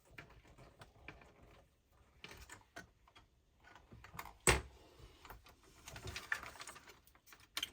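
Screwdriver working at a rounded screw on a Tamiya Scania R470 model truck, faint close clicks and scratchy scraping with one sharp knock midway.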